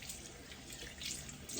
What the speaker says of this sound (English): that's why you hear the water running in the back here